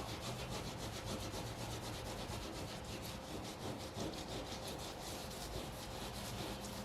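A rag rubs softened sticker adhesive off boat gelcoat in fast, steady back-and-forth strokes, a close continuous scrubbing rasp with no talking.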